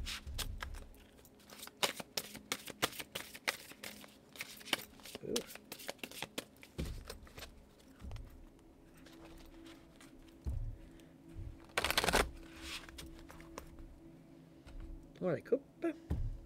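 Oracle cards are shuffled and cut by hand, giving quick crisp riffles and soft slaps that come in bursts close to the microphone, with brief pauses between the bursts and a louder flurry near the end.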